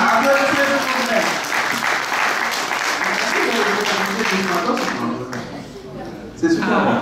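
Audience applause at a live children's quiz challenge in Paris, steady clapping filling the room with voices and crowd noise mixed in, fading slightly near the end.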